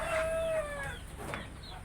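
A chicken caught in metal gives a short series of high, strained squawks and clucks, fairly close, fading into a thinner call and background rustle.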